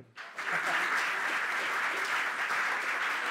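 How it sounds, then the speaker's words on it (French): An audience breaks into applause at an experimental science lecture, clapping swelling quickly after a brief pause and holding steady and full, with a faint voice underneath. "on peut avoir des applaudissements"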